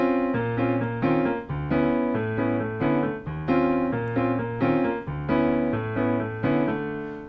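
Piano accompaniment with both hands, a left-hand bass line under a repeating right-hand chordal hook: full, steady rhythmic chords and low notes cycling through the pattern, close and clear, no voices.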